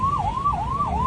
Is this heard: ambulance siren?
yes